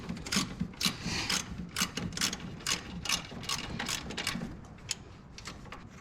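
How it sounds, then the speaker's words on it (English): Rapid ratchet wrench clicking while removing 12mm nuts on a 1990s Toyota Land Cruiser FJ80 during charcoal canister replacement, in bursts of fast, close metallic ticks with brief pauses between strokes. "So let me take these nuts off real quick."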